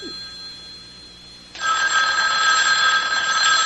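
A telephone bell in a 1974 radio drama suddenly starts ringing loud and steady after a quiet stretch, a continuous bright metallic ring filling the rest of the moment with no voices.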